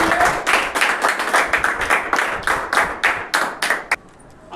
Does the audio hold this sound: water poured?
no